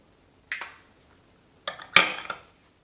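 A utensil briskly mixing dry flour, salt and baking powder in a bowl for a lemon pound cake, with two short bursts of scraping and clinking against the bowl, close and clear, no talking.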